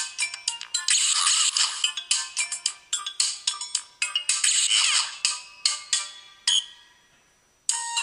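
Bright, busy Fruit Ninja-style game effects from an Android smartphone: rapid slashing swooshes, chimes and jingles tumbling over one another in quick bursts, then a short pause before a final chirp, with no voices.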